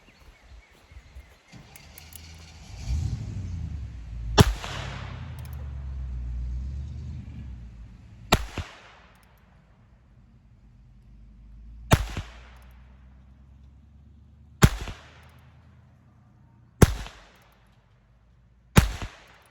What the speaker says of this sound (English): when I fired the first round, I kind of chuckled a little bit